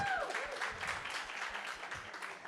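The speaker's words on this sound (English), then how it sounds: "So a big round of applause for the audience, guys." Audience applause at a startup pitch event, a dense steady patter of clapping at moderate distance with a few faint whistles or voices mixed in, continuing throughout.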